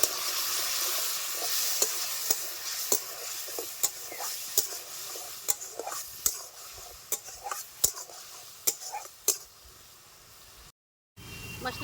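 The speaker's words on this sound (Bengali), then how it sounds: "একটু জল দিয়ে মশলাটাকে আমি ভালো করে কষিয়ে নেব।" A paste of ground cumin, red chili powder, salt and a splash of water fries in a pan with a soft, steady sizzle, broken by regular scraping clicks from stirring and a brief gap near the end.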